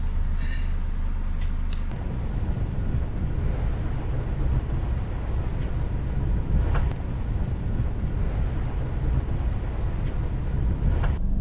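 A sailboat's engine runs as a steady low drone, a constant rumble with some wind noise over it and no talk.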